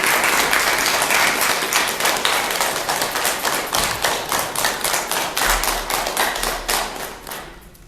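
A crowd at a farewell ceremony claps in a loud, rhythmic, synchronized beat, steady hand claps pulsing together for several seconds before fading at the end, with no one speaking.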